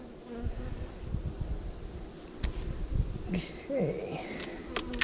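Honey bees buzz at a hive in a low, continuous drone, with a few passing insects whining by close to the microphone and occasional small knocks.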